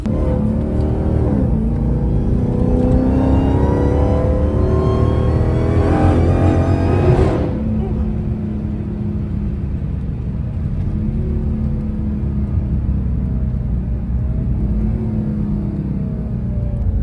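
A tuned Dodge SRT Hellcat at night, its engine revving loudly with rising harmonics, then dropping sharply on a downshift about halfway through into a steadier, quieter rumble, with no talking.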